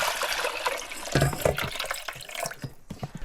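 Cold water being poured into a Christmas tree stand indoors, a steady close splashing trickle with small drips running alone for a few seconds.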